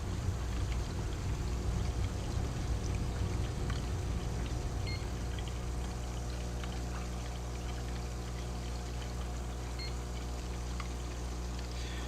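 Continuous water pouring and splashing, a steady rushing stream that fades slightly over time with a low hum underneath.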